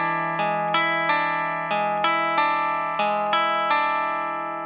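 Electric guitar picking an arpeggiated string pattern, a repeating cycle of plucked notes over a ringing low drone, with a slightly effected, distorted swampy tone, close and unaccompanied.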